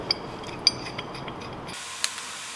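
ARP bolts threaded into a BMW dual caliper bracket give a few faint, sparse metallic ticks and clicks over a quiet workshop background, ending in near silence.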